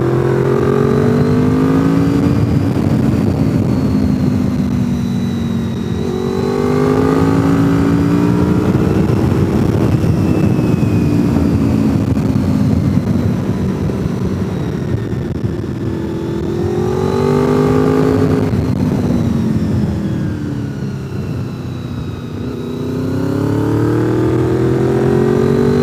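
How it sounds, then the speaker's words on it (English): A Mini Cooper car drives the winding mountain road at Deals Gap, its engine loud and close, rising and falling in pitch as it accelerates, shifts and slows through repeated bends. "It's bad enough I'm driving a Mini Cooper."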